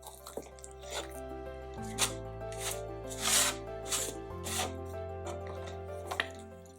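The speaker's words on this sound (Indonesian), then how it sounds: "Supaya butter dan adonan cepat menyatu, uleni secara cepat seperti ini." Bread dough with butter worked quickly by hand gives soft, wet squishes and slaps in an irregular rhythm, quiet and close, over faint background music.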